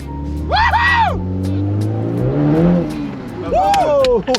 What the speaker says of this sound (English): You don't expect the front wheel drive to oversteer like this.